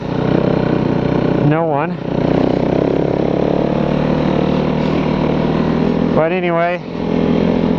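Snowmobile engine droning steadily and loudly while riding uphill on snow, with two brief revving swells, as someone talks over it.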